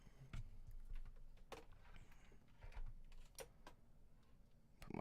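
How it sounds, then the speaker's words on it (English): Computer keyboard being handled and set down, scattered clicks and knocks of keys and plastic at irregular intervals, close and quiet with no speech. "Put my keyboard down real quick."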